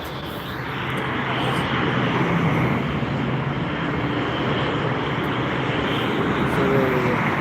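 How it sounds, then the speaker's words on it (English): An Air France Embraer E190 arriving at Frankfurt International Airport passes as a continuous, broad jet roar that swells slightly and holds steady at a moderate distance, with a faint voice underneath. "It's an Embraer E190 aircraft."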